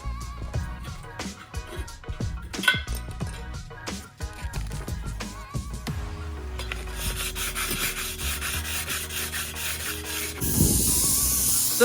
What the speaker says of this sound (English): I sanded them down the best I could